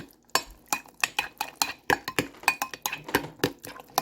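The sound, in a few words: stirring cottage cheese, egg and spinach mixture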